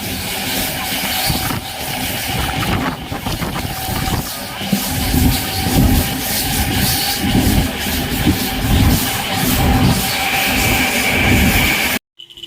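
A moving passenger train rumbles and clatters continuously, wheels thumping rhythmically over the rails, heard loud and close from on board.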